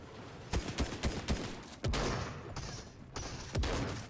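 Video game gunfire striking a wall: a quick series of sharp shots followed by heavier blasts and impacts, close and punchy with short gaps, no speech.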